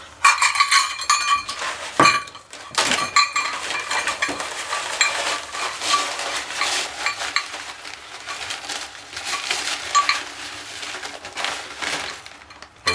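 Graham cracker crumbs being mixed with melted butter in a bowl: continuous close scraping and gritty stirring with irregular clinks of a utensil against the bowl, loud and busy, with no one talking.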